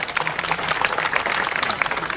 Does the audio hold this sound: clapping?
yes